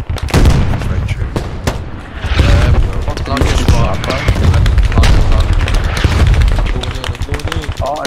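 Mortar rounds and explosions boom again and again through a video game firefight, with dense gunfire crackling between heavy blasts and players talking throughout.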